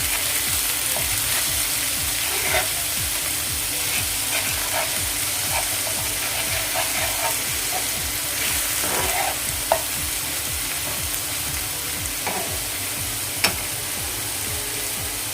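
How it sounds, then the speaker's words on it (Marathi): Potatoes and green chillies sizzle steadily in a pan for a simple Maharashtrian potato bhaji, a continuous frying hiss broken by faint scraping and clinking of a spatula as the pieces are turned, with no talking. "आता या असं कच्चेपणा जाईपर्यंत आपण हे एक दोन मिनटं परतून घेऊया"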